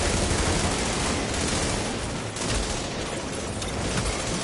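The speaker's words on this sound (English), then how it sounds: "Who the fuck is shooting at me?" Dense, continuous gunfire from a video game, a rapid fusillade of overlapping shots with some heavier booms, loud and steady throughout with no talking.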